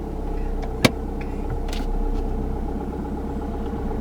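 Car engine pulling away downhill in first gear, a steady low idle-like hum with a slight rise in revs and a single sharp click early on, no talk over it.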